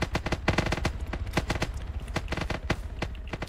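Rapid bursts of automatic gunfire from Tau forces in an Arma 3 Warhammer 40k battle, loud and close, with shots rattling in quick uneven volleys throughout.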